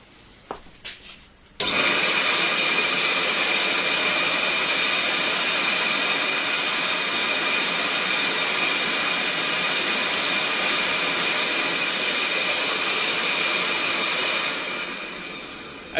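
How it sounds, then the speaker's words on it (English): A CamVac CGV286 dust extraction motor in a workshop switches on with a sudden loud rush of air and runs as a steady, hissing whine before dying down at the end, after a few faint clicks. "I'm just going to go now and turn one of the motors on"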